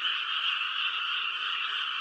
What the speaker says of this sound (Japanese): 周りは田んぼだらけで、この5月の季節、カエルがもうすごい勢いで鳴いてますね。